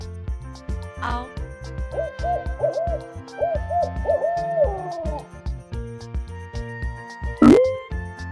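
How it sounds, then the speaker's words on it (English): An owl hoots in a short series of soft, repeated calls over a layered musical backing, with a brighter accent near the end. "Owl."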